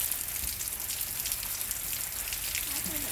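Steady rain falls throughout, a continuous soft hiss of drops with no gaps, at a constant moderate level and with no talk.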